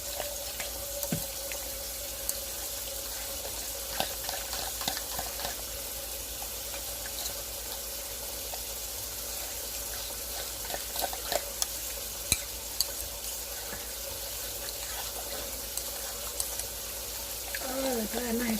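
Cream cheese gravy stirred in a frying pan on a switched-off burner, a soft steady scraping and faint sizzle running throughout with small clicks of the utensil, fairly quiet with no talk.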